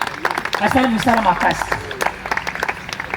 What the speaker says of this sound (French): il faut applaudir les parents d'Agathe et de Toki